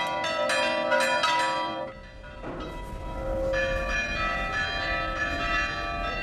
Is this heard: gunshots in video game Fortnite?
no